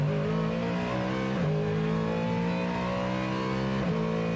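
Ford Mustang GT3 race car at Le Mans pulling away out of pit lane, its engine revving loudly and steadily up through the gears, with brief dips at each upshift and no voices.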